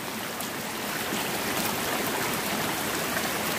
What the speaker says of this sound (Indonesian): Ini hujannya sangat lebat sekali, teman-teman.